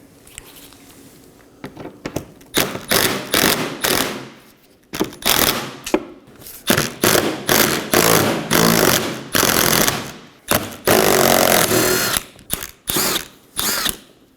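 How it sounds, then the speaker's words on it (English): A ratchet or power driver backs out 10mm screws beneath the front bumper of a 2015-2023 Nissan Maxima, loud repeated bursts of rapid clicking and whirring separated by short pauses. "we're going to locate 5 10mm screws and remove those as well"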